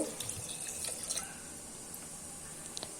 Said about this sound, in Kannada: ಅದಕ್ಕೆ ಒಂದು ಕಪ್ಪಷ್ಟು ನೀರು